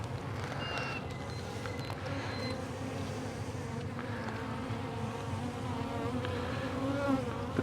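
Dense, steady buzzing of honey bees at an open four-way mating nuc during a hive inspection, a continuous close drone that holds level throughout with no talking.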